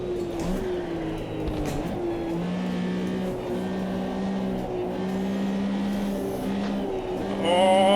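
Engines of a 1974 Porsche 911 racing in a tight pack at Kyalami in the Automobilista 2 game whine in a steady, loud tone that shifts pitch with gear changes, several cars droning together.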